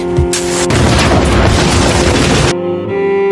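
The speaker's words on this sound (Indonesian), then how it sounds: "Otowa meledakkan diri di kediaman Uramura" A loud, full-bodied explosion in a samurai action film, as a woman blows herself up inside a police chief's house, a deep rumbling blast sustained for about two seconds before cutting to quieter tones.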